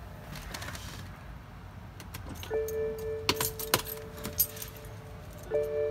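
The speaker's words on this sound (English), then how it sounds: "Pop your key out." A car key jingles and clicks as it is drawn from a BMW ignition, a few close metallic jangles and taps after a quiet stretch.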